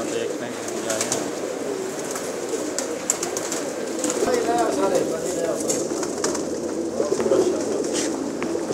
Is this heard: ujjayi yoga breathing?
no